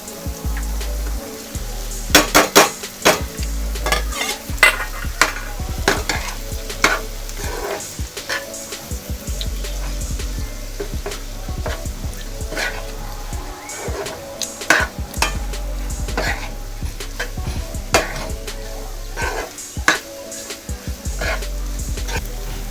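Chopped boiled eggs go into a frying pan of egg bhurji masala and get stirred, giving a close, continuous sizzle. A spatula scrapes and taps the pan repeatedly, and a low hum sits underneath.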